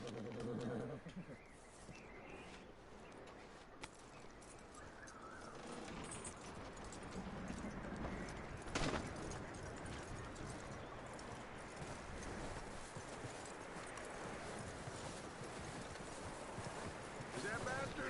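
Horse hooves clip-clop in the video game Red Dead Redemption 2, a quiet steady trotting rhythm running throughout under ambient game sound, with occasional talk over it.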